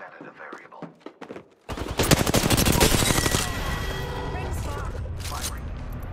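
Bursts of automatic gunfire in the video game Apex Legends, loud and close, a rapid stuttering volley that settles into sustained shooting mixed with game effects, with a voice speaking briefly before the shots.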